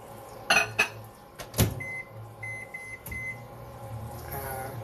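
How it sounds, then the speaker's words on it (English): Microwave oven heating oatmeal: a door clunk and handling knocks, then several short electronic keypad beeps and the steady hum of the oven running, fairly close and without talk. "I'm putting my oatmeal together, put it in a microwave."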